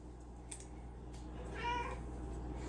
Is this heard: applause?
no